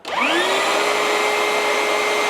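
A counterfeit DeWalt DCV501LN cordless vacuum whirs up from a start and runs with a steady, loud high-pitched whine and airy rush.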